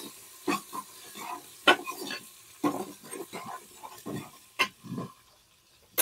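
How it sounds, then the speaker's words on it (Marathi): Garlic frying in a pan until reddish, with a soft sizzle broken by repeated sharp scrapes and clatters of stirring at uneven intervals, close and fairly quiet, with no talking. "आता लसण लाल होईपर्यंत शिजवा लागते"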